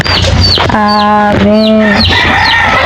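A noisy backyard flock of chickens clucks and squawks loudly up close, with a drawn-out harmonic call in the middle among short sharp cackles.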